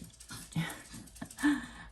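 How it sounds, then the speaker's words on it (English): A dog pants close by in quick, rhythmic breaths, roughly three bursts a second, with a faint whine and no talking. "sorry, my dog."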